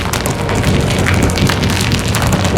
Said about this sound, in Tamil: ஸோ மழை வேற ஸ்டார்ட் ஆகுது.